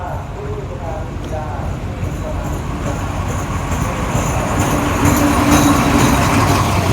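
Thai rapid train 108 pulls into Sila At station with a loud, steady rumble of rolling rail cars, with faint voices in the background.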